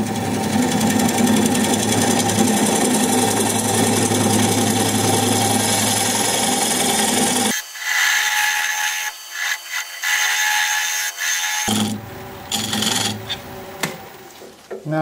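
A wood lathe turning madrona, with a tool cutting a recess: a steady rasping, scraping cut runs loud and close for about half the clip, then stops and returns in short bursts.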